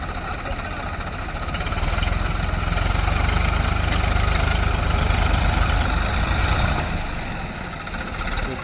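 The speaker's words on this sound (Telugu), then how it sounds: "ఆ ఇరుక్కుపోయిన ట్రాక్టర్ని తీయడానికి ప్రయత్నిస్తున్నారు మా వాళ్ళు." A stuck tractor's engine runs steadily while being pulled free, a loud low rumbling drone that swells slightly in the middle and holds close and continuous without talk.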